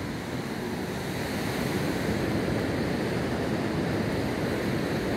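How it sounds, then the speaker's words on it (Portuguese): Ocean surf rolling onto the beach at Praia Gravatá in Navegantes, Santa Catarina, a steady, continuous broadband roar of breaking waves with some wind, with no voices. "à noite a gente escuta o barulho do mar aqui"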